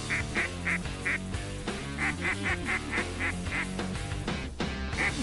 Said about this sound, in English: Ducks in the sky.